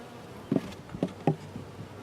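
Bees buzzing at a swarm trap, a few short buzzy passes close by over a steady low background hum.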